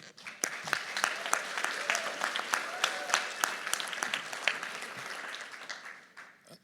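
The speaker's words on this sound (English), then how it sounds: "And can we give a quick round of applause to all the speakers for today?" A hearing audience gives a quick round of applause for the day's speakers, with steady, fairly close clapping from a modest crowd that holds for several seconds before tapering off at the end.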